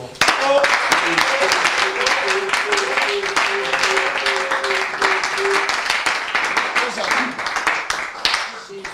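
A church congregation claps and cheers loudly and continuously for several seconds, dense applause mixed with shouting voices and a sustained sung or called tone.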